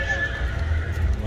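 A horse at a livestock fair in Santa Ana, El Salvador, with a whinny and hoof movement amid a noisy crowd, low rumble and nearby chatter.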